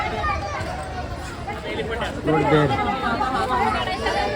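Crowd chatter fills a busy Sunday at the Byculla zoo (Rani Bagh) in Mumbai, many overlapping voices babbling close by, swelling a little louder midway and continuing throughout.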